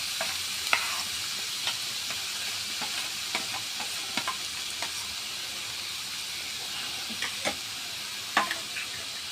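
A cooking mixture for papaya payesh is stirred in a pan over steady sizzling hiss, with scattered soft scrapes and clinks of the spoon against the pan, close and continuous, no talk.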